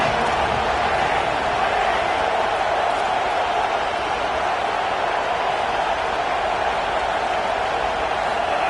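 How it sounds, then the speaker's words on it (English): A football stadium crowd roars loudly and continuously as fans try to disrupt the opposing offense, a dense, sustained wash of cheering and noise. "This crowd trying to make life miserable for this offense."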